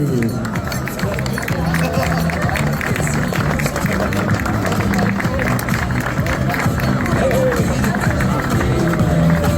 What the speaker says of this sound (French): Applaudissements pour notre vainqueur sur ce classement 65-69, Fabienne Saunier